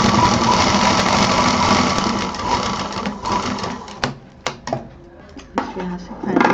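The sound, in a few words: sewing machine stitching a fabric hot pot pad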